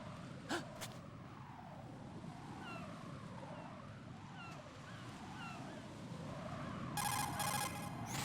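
A cell phone rings in Metal Gear Solid 2 with short electronic trills, first near the start and again at the end. Steady wave-like ambience fills the background and no one speaks.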